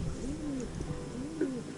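Soft cooing of pigeons nearby in Coca, Segovia, a couple of low throaty coos with gentle rising and falling tones over faint background noise.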